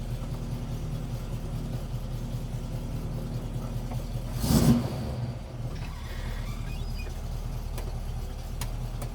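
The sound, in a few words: 1967 Chevy Camaro with Muncie transmission accelerating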